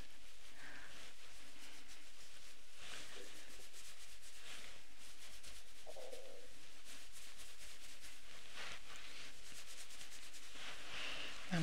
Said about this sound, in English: I'm just going to do a bit of rubbing across the whole scalp like this.